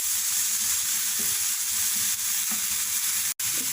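Garlic, ginger and green chilli paste sizzles and fries steadily in a hot pan while being stirred, a continuous close crackling hiss with occasional soft scraping, no voices.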